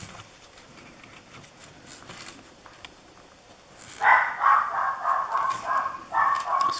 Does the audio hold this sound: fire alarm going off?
no